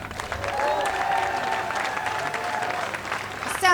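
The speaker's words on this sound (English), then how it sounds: "You all deserve a big round of applause." Rally crowd applauding, a steady wash of clapping at moderate distance that swells slightly then holds, with some voices mixed in.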